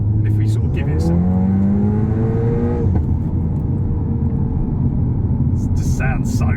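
Audi TT with a custom valved quad exhaust in sport mode, revving hard through rising gear pulls from inside the car, then settling into a loud steady rumble with a few faint pops near the end.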